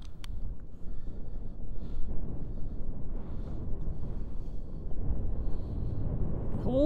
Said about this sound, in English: Holy, she's windy. The cold front's coming in